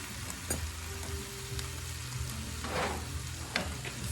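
Curry sizzles and bubbles in a pot as it is stirred, a steady close frying crackle with a few sharper scraping clicks, with no voices.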